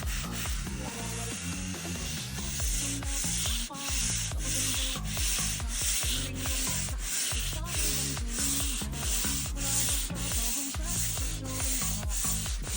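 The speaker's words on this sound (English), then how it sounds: "I then sand the entire piece with 400 grit superfine sandpaper." Rhythmic back-and-forth rasping of 400-grit superfine sandpaper on a wooden dresser, strokes repeating steadily and close up, with no talking.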